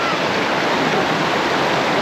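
Steady, dense rush of water pouring down a waterfall into a warm bathing pool on Siquijor Island in the Philippines, a close, constant broadband roar with no clear voices.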